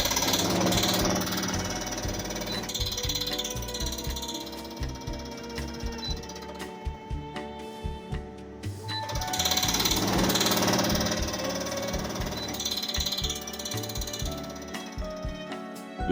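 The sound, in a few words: Haier portable air conditioner knocking and ticking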